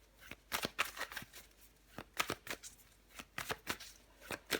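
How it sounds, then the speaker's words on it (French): Tarot cards being shuffled and drawn, crisp riffling snaps and flicks arriving in quick clusters with short pauses, close and quiet, with no voice over them. "Je vais encore tirer quelques cartes pour vous, les poissons."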